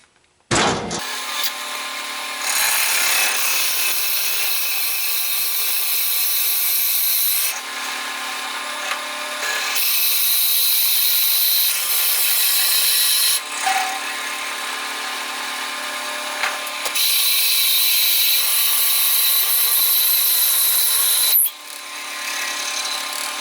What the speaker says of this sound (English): I don't want to go extremely fast with the speed of my lathe, so I'm going to fire this up and then I'm going to slow it down a little bit while I hog this material out